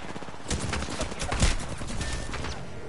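Rapid gunfire in the video game Apex Legends, a continuous burst of automatic shots with one heavier impact near the middle, loud and close, without talk.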